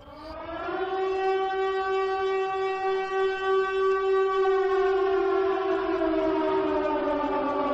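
Siren Head's siren from an animated cartoon sounds as a loud, steady, rising-and-sustained civil-defense-style wail with rich harmonic tones that sag slightly in pitch toward the end, heard alone.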